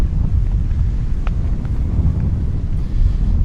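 Strong wind buffets a camera on a gimbal at Delnor-Wiggins beach on a Saturday morning, a continuous low rumbling roar with no speech.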